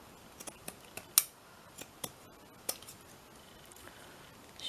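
Scissors snip through paper and card for a mixed media collage journal cover, a series of quiet, irregular sharp cuts with one louder snip, close by with no talking.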